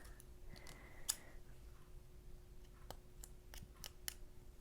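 Scissors snipping crochet yarn while finishing a tote bag panel, a few faint, sharp clicks and snips spaced over a few seconds against a quiet background hum.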